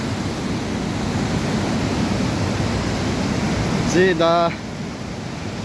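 Waterfall spray at Geiranger, Norway, makes a steady, even rushing hiss like falling rain, continuous and fairly loud, with a brief spoken word near the end.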